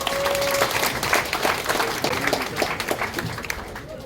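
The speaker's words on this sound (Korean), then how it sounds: "그럼 박수로 맞아주세요." Audience at a church memorial hall opening service claps to welcome a speaker, a fairly loud, uneven spatter of hand claps lasting several seconds with a faint voice partly underneath.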